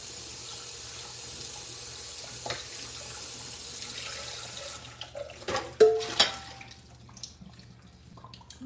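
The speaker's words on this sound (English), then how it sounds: "You can rinse it with cool water." Kitchen tap running steadily into a sink to rinse strained spaghetti with cool water, then shutting off, leaving a few drips and small clatters close by.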